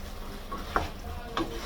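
Fried chicken pieces are tossed and stirred through sauce in a pan, with two distinct scraping, clattering strokes over a soft background sizzle.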